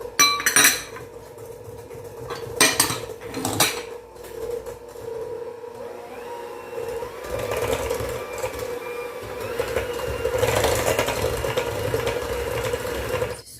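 Cake batter with vanilla being mixed in a bowl, clinking utensil strikes at first, then a steady buzzing whir of a mixer running continuously, close and without talk.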